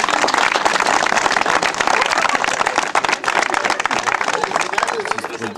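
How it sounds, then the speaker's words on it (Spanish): Loud, dense applause from an audience at a public works inauguration in Jilotepec, continuous clapping and crowd noise filling the scene throughout. "¡Aplausos!"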